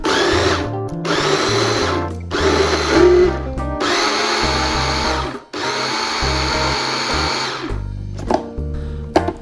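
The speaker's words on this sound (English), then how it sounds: "And then we're ready to blend it up." A blender runs in loud bursts, chopping chimichurri ingredients into small chunks, with several short stops and restarts and a final sputter as the pulses end.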